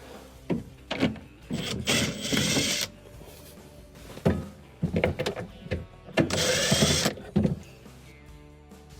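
Phillips screws are backed out of a Samsung refrigerator's freezer evaporator cover, giving short whirring bursts of a powered screwdriver with clicks and knocks between them, close up and fairly quiet.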